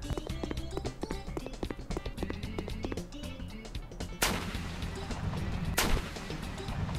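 Rapid rocket-launcher gunfire in a Mario video game, a dense run of sharp repeated shots followed by two louder bursts near the end, with no talk.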